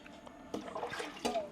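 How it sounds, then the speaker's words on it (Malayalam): Coconut milk pours into a pot while cooking ashoka-flower orappam at home, a soft liquid splash with two brief bursts of pouring, fairly faint against a quiet kitchen background. "അതെന്താ തേങ്ങാപ്പാൽ വീണ്ടും ഒഴിക്കുന്നത്?"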